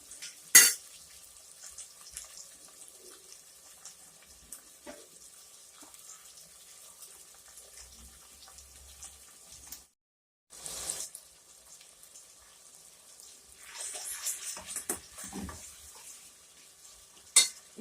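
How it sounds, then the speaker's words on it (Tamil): Small onions and cut tomatoes sauté in a pan, giving a faint steady sizzle with occasional louder scrapes and stirring clatter of a utensil against the pan. "இப்ப இதுவும் நல்லா வதங்கட்டும்"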